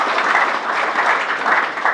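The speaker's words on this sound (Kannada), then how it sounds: "ಅವರಿಗೂ ಕೂಡ ಚಪ್ಪಾಳೆಯನ್ನು ತಟ್ಟು." An audience applauds at a congratulation program in Haveri for students who passed an army exam, a full, steady wave of clapping that swells and dips over two seconds.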